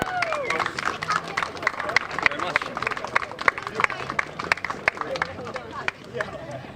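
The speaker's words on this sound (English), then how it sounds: "Big round of applause in 3rd place for Heinrich Watson Miller." An outdoor crowd at the Oulton Park race circuit podium claps for the third-place finisher, a dense, steady patter of many hands from a moderate distance, under an announcer's voice.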